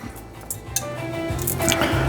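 A boiled egg's shell is peeled off in a colander, giving close wet squishing and small crackling bits over a steady background hum, with no talk.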